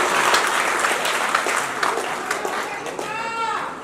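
An audience at a Chhattisgarhi comedy poetry gathering (kavi sammelan) in Takhatpur claps in a loud, dense burst that tapers slightly toward the end, with a brief tonal voice-like sound rising near the close.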